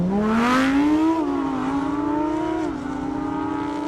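A Lamborghini Huracan drag racing on an airstrip screams loudly at high revs, its engine tone climbing and dipping through gear changes before settling into a sustained, slightly fainter wail.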